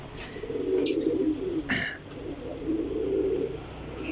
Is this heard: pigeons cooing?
yes